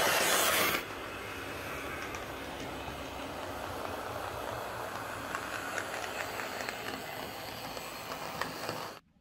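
A remagnetised Hornby R751 Class 37 model locomotive runs steadily on track, a fairly quiet, smooth mechanical whirr and rumble with faint clicks, after a brief louder burst at the start.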